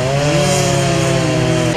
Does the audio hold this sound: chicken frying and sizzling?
no